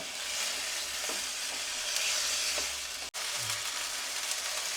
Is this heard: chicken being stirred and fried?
yes